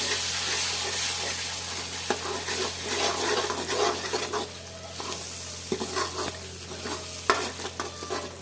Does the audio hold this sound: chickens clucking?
no